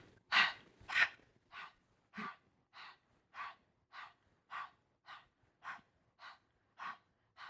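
Steady exhalations during a seated chair yoga twist, about thirteen soft, breathy outbreaths at an even, unhurried pace, close and clear with no talking.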